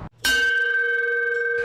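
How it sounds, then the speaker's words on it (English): At Michigan's largest boat sales lot, a dealership bell is struck once to mark a sold boat, giving a loud, bright clang that rings on as a clear sustained tone. "They ring a bell every time they sell a boat at Michigan's largest boat sales lot."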